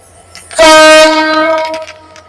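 A loud, sustained train horn blares close by over rumbling rail noise, then fades slightly as the train carries on.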